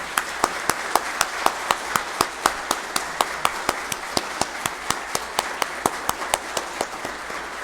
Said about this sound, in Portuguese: vamos fazer um efusivo aplauso a esses dois cidadãos